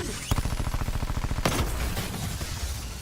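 Rapid belt-fed machine gun bursts in a video game, a steady stream of loud, evenly spaced shots for about a second and a half, then a sharp blast and rumbling gunfire trailing off.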